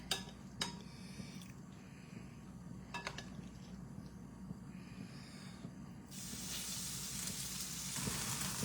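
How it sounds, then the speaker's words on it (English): Crab cake mixture for a lighter Maryland-style recipe sizzles as it is spooned into an oiled skillet: a few light spoon clicks, then a steady close hiss that swells louder and brighter partway through. "We're going to put a little oil in there. And we're going to spoon this into our skillet."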